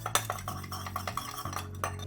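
Bar spoon stirring a daiquiri in a metal shaker tin to dissolve sugar, a steady run of close, light metallic clinks and scrapes over about two seconds.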